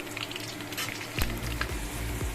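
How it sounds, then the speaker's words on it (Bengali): Potatoes frying in hot oil give a steady, close sizzle, with a few sharper clatters of a utensil against the pan partway through. "এই যে আলুগুলো আগে ভেজে নিই"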